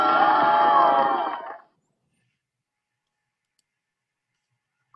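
A bowling ball strikes and scatters pins in a busy clatter of knocks and rattles, loud and brief, fading within about a second and a half into silence.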